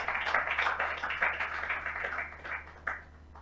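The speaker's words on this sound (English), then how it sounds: "Round of applause for him," Audience applause at a mentorship scheme launch, a steady patter of clapping from a gathered crowd at moderate distance that gradually thins out toward the end.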